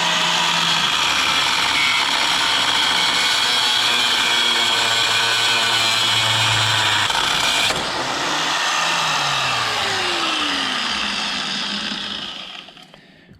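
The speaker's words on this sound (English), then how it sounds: "if I can't get like an angle grinder or something in here and cut that tab off" Angle grinder cutting off a metal tab during a TDI engine swap, a loud steady high whine close by for most of the time, shifting pitch partway through as the disc winds down and the sound fades out.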